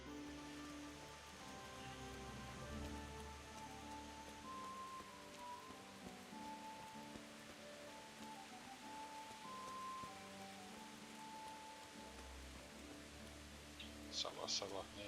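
Rain falls steadily in the video game Kingdom Come: Deliverance, a soft continuous hiss under a low ambient music drone. A brief brighter rattle comes near the end.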